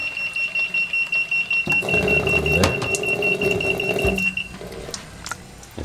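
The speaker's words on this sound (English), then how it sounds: "That was an alarm for that is acid water, so you will know it's acid water not to drink." A Panasonic water filter sounds its acid-water alarm: a steady, shrill electronic tone with rapid repeating beeps that holds for several seconds over a low mechanical hum, then cuts off, leaving faint background noise.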